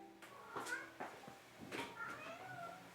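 A cat meows several times indoors in a bedroom, short high mews spread across a few seconds, near and fairly clear, with faint room noise and little talk.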